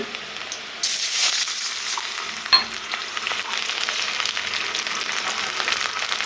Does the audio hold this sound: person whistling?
no